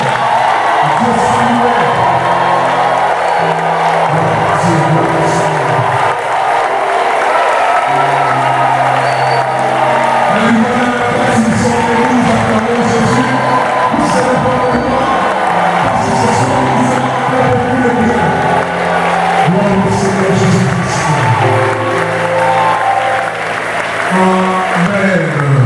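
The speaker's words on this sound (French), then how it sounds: "acclamez le Seigneur, poussez les cris et joie" A church congregation at a worship service shouts, cheers and applauds with joy, a loud, sustained mass of voices, whoops and clapping throughout, with a speaker's voice rising over it at times.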